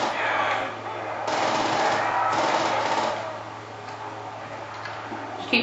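A PPSH submachine gun fires in Call of Duty Nazi Zombies on the Der Riese map, with sustained rapid bursts of game gunfire at moderate loudness and no talk.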